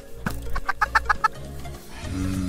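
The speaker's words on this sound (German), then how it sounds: "Hühner?" Minecraft chickens give a quick run of rhythmic clucks, fairly close and moderately loud, followed by a low in-game background hum with no talking.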